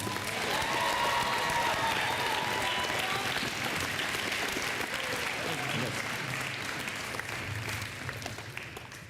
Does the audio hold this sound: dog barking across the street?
no